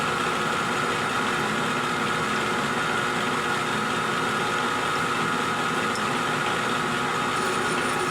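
A steady mechanical drone with a continuous grinding hum, like a lathe drilling through metal, runs evenly and unbroken throughout, with no voices.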